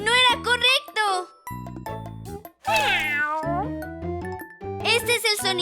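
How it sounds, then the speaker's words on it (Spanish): A cartoon cat meows repeatedly in bright, high, sing-song cries in an animated children's animal-sounds show, with short gaps and a quick jingly musical flourish between calls. "Este es el sonido de un gato."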